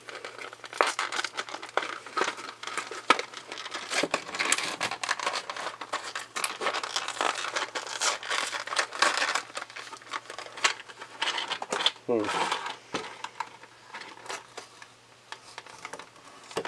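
Cardboard packaging of a Transformers Generations Power of the Primes Alpha Trion toy box being opened, with continuous crinkling, crackling and ripping of tape close up, with a sharper tear near the end.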